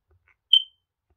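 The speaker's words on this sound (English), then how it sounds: "that one just chirped, which probably indicates that it's at end of life" A FireX FADC230 smoke alarm at the end of its life gives one short, sharp, high-pitched chirp in otherwise near silence.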